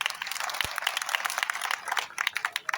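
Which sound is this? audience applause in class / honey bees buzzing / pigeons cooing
audience applause in class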